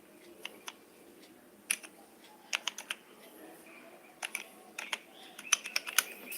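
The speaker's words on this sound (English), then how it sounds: "Now I would just key in the password to log in." A password is typed on a computer keyboard while logging into an Ubuntu 16.04 system, producing scattered, quiet clicking keystrokes in small bursts with pauses between them.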